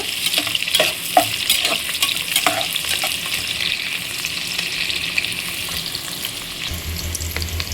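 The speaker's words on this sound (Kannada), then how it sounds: "ಈರುಳ್ಳಿ ಚೆನ್ನಾಗಿ ಕೆಂಪಗಾಗೋ ಥರ ಫ್ರೈ ಮಾಡ್ಕೊಳ್ಳೋಣ" Onions fry in a pan for a chicken biryani, giving a steady close sizzle punctuated by scraping clicks of stirring, with no talking.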